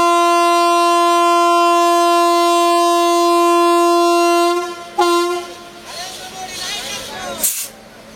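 A train sounds a long, loud, steady horn for several seconds, then cuts to brief horn blasts and rolling rail noise with voices and crowd sound around it.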